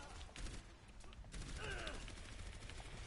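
Rapid gunfire in the video game Overwatch, a dense burst of shots and mechanical clatter running throughout, fairly faint and mixed with game effects.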